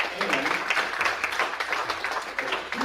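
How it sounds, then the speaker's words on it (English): An audience applauds guests at a group briefing, with steady, dense clapping filling the room for about three seconds and no one speaking over it. "let's give a round of applause to our guests here"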